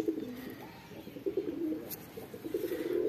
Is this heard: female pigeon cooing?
yes